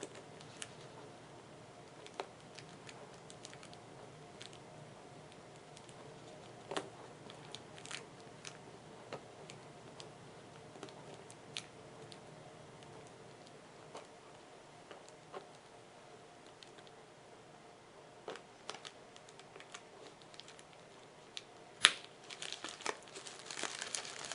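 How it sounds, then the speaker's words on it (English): Soft, sporadic crinkling of a plastic bag with scattered light ticks and clicks as an E-clip is pushed off a Howa 1500 rifle trigger, quiet and close, no voices. "Now I put it in the plastic bag again to push it off."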